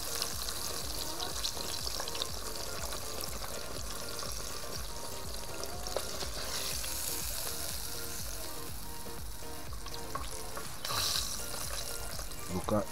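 Pieces of barracuda coated in bread crumbs deep-fry in a pot of oil, a steady close hiss and crackle of sizzling that runs unbroken throughout.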